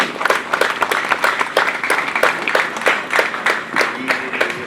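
An audience at an island expo gathering applauds a bishop with a loose, uneven round of clapping, individual sharp claps standing out within the crowd for several seconds.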